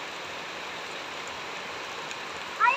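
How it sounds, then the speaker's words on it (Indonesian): Heavy rain pours steadily at a hillside nature spot, a dense, even hiss throughout with a brief louder rustle near the end. "hujan makin lebat"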